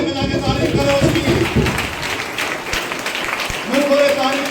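A church congregation at a Christian worship meeting claps loudly in praise, a dense wash of hands under a preacher's continuing voice.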